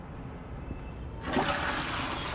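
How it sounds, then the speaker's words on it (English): A toilet flushes in the video game Crime Scene Cleaner: low background ambience, then a sudden loud rush of water about halfway through that keeps gushing to the end. "there's the toilet flushing"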